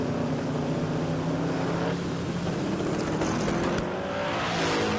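Carsberg's Turbo LS drag racing car, a small-tyre class entry, launching off the line at a no-prep drag racing event: a loud, sustained engine roar that holds steady and rises slightly toward the end.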